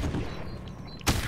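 A grenade explodes in Modern Warfare Remastered as a single short, loud broadband burst near the end, following a stretch of busy game noise.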